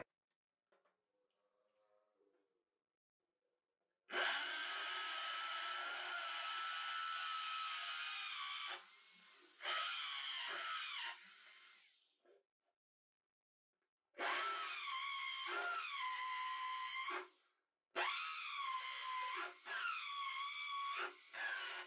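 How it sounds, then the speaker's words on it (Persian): A power drill bores holes in a wooden shelf, starting with a small pilot hole and then a larger bit. The motor whines loud and close in several bursts of a few seconds each, separated by short silences. "حالا با یک مته درشتر سوراخ بزرگتر میکنم تا پیچام جا بشه داخلش"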